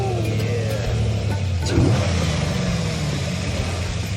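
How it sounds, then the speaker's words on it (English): A Chevy Corvette-type V8 swapped into a Porsche runs loud and close, its deep steady engine rumble swelling briefly as it revs, with no talking over it. "It's loud. It sounds like a Corvette engine is just right behind you."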